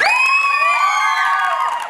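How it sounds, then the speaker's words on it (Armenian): A crowd at a graduation event cheering loudly for the boys, a dense continuous roar of raised voices and whoops close up, fading slightly toward the end. "եկեք միատ ծափարենք տղեկին էլի"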